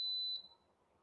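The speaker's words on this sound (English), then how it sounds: "It was beeping over there. It's beeping over here too." A Bluetti power unit gives a single short, high-pitched electronic beep, loud at first and cut off within half a second, leaving quiet background.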